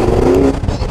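Ferrari California Turbo engine running close and loud, a brief throaty drone with a rising tone before it dips slightly.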